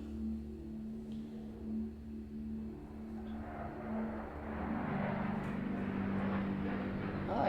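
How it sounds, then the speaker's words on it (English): A small airplane passes overhead as a steady low engine drone, growing slightly louder toward the end, with faint background room noise and no speech. "Oh, I hear an airplane."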